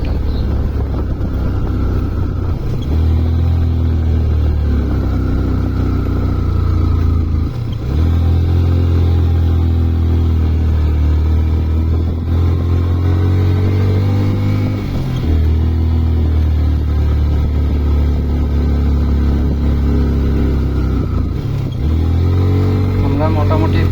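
Motorcycle engine climbing a hill road on a ride from Lama toward Alikadam and Thanchi, a steady loud drone with shifting pitch as the bike labours uphill, with a rider talking over it at times.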